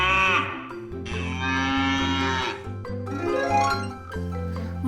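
A cow moos several times in a row, with long, loud, drawn-out lowing calls and short gaps between them, close up and with no other sounds.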